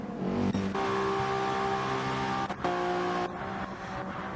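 A race car in Gran Turismo 7 at the Le Mans 24 Hours enters the pit lane with a loud, steady engine drone holding a droning pitch, briefly dipping once before continuing, with no talk.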